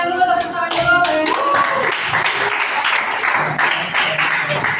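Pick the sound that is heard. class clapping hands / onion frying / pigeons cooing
class clapping hands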